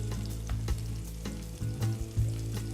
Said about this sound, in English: So the walnuts are candying.